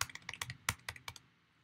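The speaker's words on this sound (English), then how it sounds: "Hit enter on my keyboard" A run of about ten quick, crisp clicks from a computer keyboard, pressed during a software tutorial for a cutting machine, sounds up close and clear and then fades to quiet. No one speaks.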